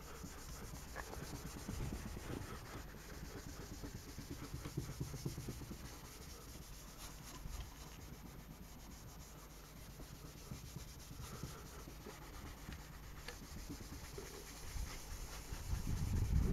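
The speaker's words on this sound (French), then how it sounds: "celle-ci, on va pouvoir la déplier pour nettoyer le phare" A car headlight lens being rubbed clean with a wet wipe, giving a steady close-up scrubbing and rubbing sound throughout with no talking, slightly louder at the very end.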